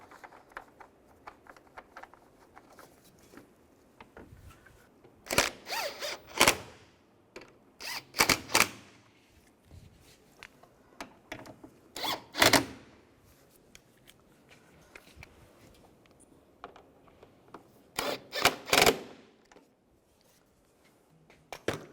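Ratcheting and clicking bursts as bumper bolts are tightened on a 2004–2010 BMW X3, coming in short clusters with quiet gaps between them, close by and fairly clear.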